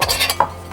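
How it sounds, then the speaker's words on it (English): Small titanium frying pan and cooking pots from a three-piece camping cook set knocking together, a few light metallic clinks followed by one sharper ring, close and short. "You have a little frying pan"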